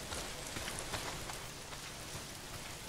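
Steady rain falling in the video game Days Gone, a faint continuous patter with scattered droplet hits, no talk.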